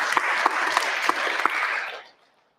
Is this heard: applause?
yes